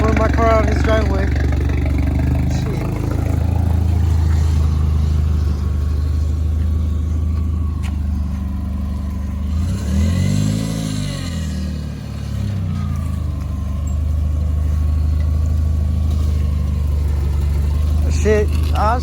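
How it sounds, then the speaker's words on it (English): A Volkswagen MKIV GLI engine rumbles close by, idling and revving at low throttle as the car pulls out of a driveway, with a brief rev swell midway. "pulling my car out of his driveway."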